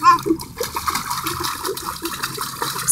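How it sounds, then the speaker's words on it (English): Hands splash water in a swimming pool, giving a close, continuous churning and slapping of water with brief louder surges at the start and end. "Go splash with your hands."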